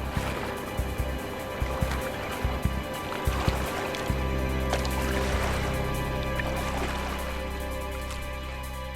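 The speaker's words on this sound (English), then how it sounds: "As we hit the water with the paddle" A canoe paddle strikes river water in a crocodile-inhabited setting, giving a few splashy hits and dripping sounds over steady flowing water and a low boat rumble, close and fairly loud.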